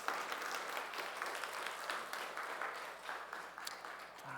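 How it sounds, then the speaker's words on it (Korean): A church congregation at a Sunday service claps steadily together, a dense, even patter of many hands that carries on throughout and tapers slightly toward the end. "박수 한번 치겠습니다."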